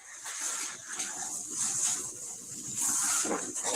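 A police scent-tracking dog whimpering near a courthouse, thin high whines that come and go over a hissy outdoor background, with no voices.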